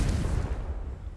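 A Confringo fire spell goes off in Hogwarts Legacy, a loud, rumbling blast that stays heavy and steady through its short length.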